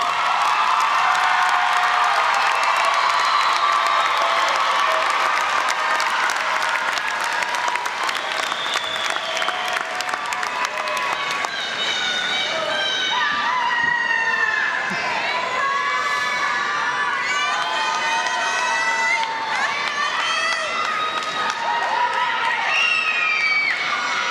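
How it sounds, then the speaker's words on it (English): A commencement crowd in the stands applauds and cheers for graduates' families and friends, a loud, continuous roar of clapping with whoops and shouts rising partway through. "Please look into the stands and give them a round of applause."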